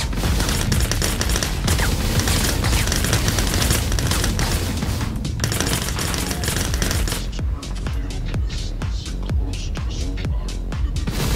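Sustained turret gunfire in Star Citizen combat, a loud, dense burst of rapid shots that fills the scene almost continuously, then thins into sparser, more distinct shots near the end.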